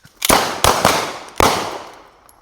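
Pistol shots crack sharply at close range during live-fire practice, four loud reports in about a second and a half, a quick pair then a third and a slightly later fourth, each leaving a short ringing decay.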